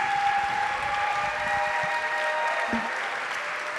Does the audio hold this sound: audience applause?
yes